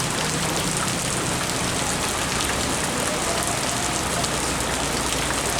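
Steady rain pours over a bus terminal in Solok, a dense, even hiss of drops on hard surfaces that stays loud and unbroken throughout, with no voices.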